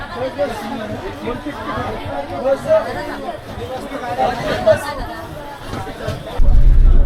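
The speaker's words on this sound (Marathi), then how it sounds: "गर्दी आहे माणसांची माणसांची इथे राजापूरला चढतायत" A dense crowd chatters and bustles as passengers board and leave a bus at Rajapur, a steady babble of many voices filling the space, with a louder rumble at the very end.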